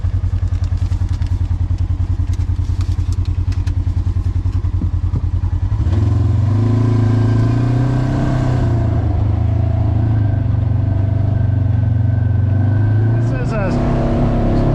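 A Polaris RZR side-by-side climbs an off-camber forest trail in two-wheel drive with the rear diff locked. Its engine drones loud and close throughout, then surges and rises in pitch partway through, with occasional thumps and clatter from the trail.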